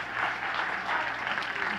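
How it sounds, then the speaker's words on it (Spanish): A church congregation applauds during a sermon, giving the Lord a louder round. The clapping is a steady, even wash of many hands at moderate distance, with no voices over it. "Dale ese aplauso más fuerte al Señor."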